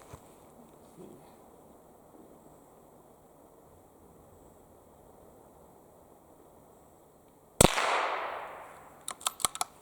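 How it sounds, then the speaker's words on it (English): A suppressed Anschutz sniper rifle fires a high-velocity round outdoors at a shooting range. After a long quiet stretch, one sharp, loud crack sounds, followed by a trailing decay and a few quick metallic clicks. "So now we're gonna notice that the silencer isn't gonna be quite able to do its job."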